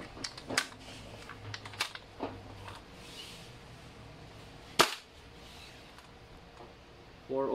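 WE M4A1 airsoft gun fired through a chronograph indoors, a few sharp isolated pops spaced seconds apart with one louder crack near the middle, alongside faint handling clicks.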